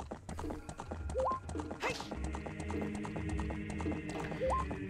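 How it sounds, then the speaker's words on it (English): Rhythmic horse hooves clip-clop through Ocarina of Time game audio, steady and fairly close, mixed with game music and sound effects, with a speaker talking over it. "Let me on the horse."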